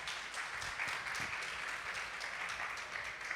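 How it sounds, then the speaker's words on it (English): An audience at a conversation event gives a steady, even round of applause for the speaker Matt, a continuous wash of many hands clapping at moderate distance with no talking. "So a big, big round of applause for Matt"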